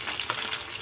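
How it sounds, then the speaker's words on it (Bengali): Small chuno fish sizzle and crackle in hot frying oil, a continuous close and fairly quiet spatter with no voices. "তো মাছগুলো আমার ভাজা হয়ে গেছে"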